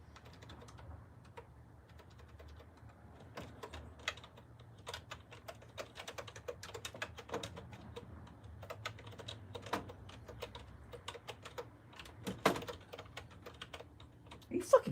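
Keys pressed on a 1997 PC keyboard: a steady run of close, light plastic clicks and taps at an uneven typing rhythm, with a few louder strokes near the end, over a faint low hum and no talk.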